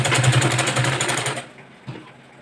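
A sewing machine runs fast and steady stitching a strip for a boat neck blouse, a close loud whirring hum that stops abruptly halfway, followed by a faint knock.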